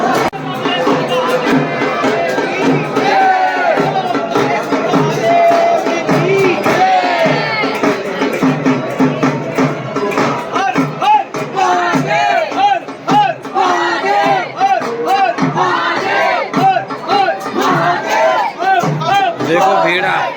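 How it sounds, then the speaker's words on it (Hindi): Dense crowd at Omkareshwar temple beside the Narmada ghat during evening aarti, many voices chanting and calling together loudly and continuously, close and enveloping. "ऊपर तक ही भीड़ ही भीड़"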